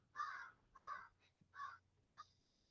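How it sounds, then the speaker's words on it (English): A crow caws four times in a slow, uneven series, clear and fairly close against a quiet low rumble. "That's a crow."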